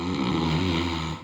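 A person imitates snoring with a single drawn-out, low rasping breath that stays fairly loud and close and has no other sounds around it.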